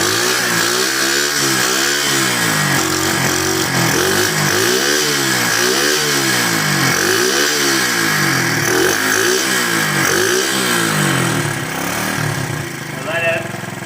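A KC pit bike that had sat unused for over three years runs outdoors in cold weather of about 40 degrees, its loud engine idling with rhythmic rising and falling revs while someone talks nearby.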